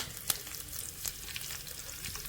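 Cumin seeds crackling in hot ghee, with sharp pops and spits over a soft sizzle, including one loud snap near the start, close by.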